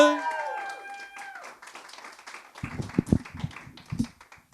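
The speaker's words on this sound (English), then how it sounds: "You start clapping. You don't stop till they grab the mic." Comedy show audience clapping for a comedian, a thin scatter of claps that builds into a few louder hand slaps near the end, over earlier stage music.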